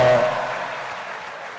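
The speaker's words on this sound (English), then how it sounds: "Can you give him a round of applause?" Audience at the Alaghodaro event in Edo State applauds the senator Oshiomhole, a brief burst of clapping that quickly tapers off.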